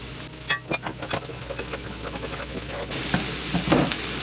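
Chopped onions and celery tossed into a pan of sausage fat, scraped and stirred with clattering utensil strokes, then settling into a steady, louder sizzle.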